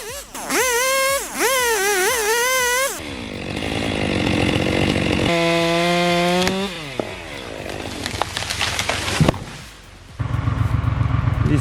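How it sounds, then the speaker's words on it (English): A Stihl MS-462 chainsaw revs and cuts into a tree, engine pitch swooping up and down between loud sustained bursts of cutting, with brief idle dips and revving changes throughout. "That steel MS-462 sounds tuned perfectly for this kind of precision work."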